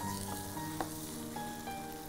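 A thick spiced mixture fries in oil over a low flame on a stove as it is stirred, giving a steady close sizzle with a few soft scrape clicks from the spoon and faint tonal background music.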